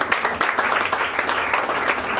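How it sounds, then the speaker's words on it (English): A church congregation at a pastor's birthday celebration applauds the pastor with lively, fairly close clapping. Sharp individual claps stand out from the steady ovation for a couple of seconds. "Please clap for Pastor"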